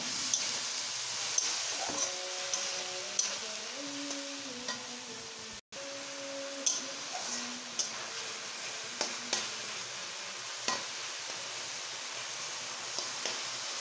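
Masoor lentils frying with onion and garlic in a pan, a steady soft sizzle with intermittent stirring scrapes and clinks, close and moderately quiet, no talking.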